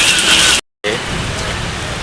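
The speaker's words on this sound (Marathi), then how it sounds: "किती जोरात पाऊस आलाय." Heavy monsoon rain pours down near a road station, a dense, loud, steady roar of drops on surfaces, cut by a brief total dropout before resuming just as strongly.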